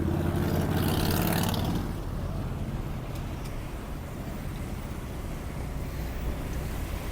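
A car drives across the Blagoveshchensky Bridge, also called Lieutenant Schmidt Bridge, in central Saint Petersburg. Steady road and engine rumble with wind-like hiss is louder for the first two seconds, then settles into a constant drone with no talking.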